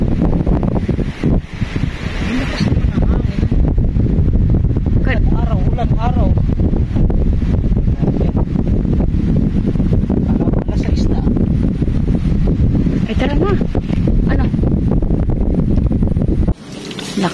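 Strong wind roars and buffets the microphone continuously during a storm with thunder, with low rumbling underneath and people talking intermittently through the gusts.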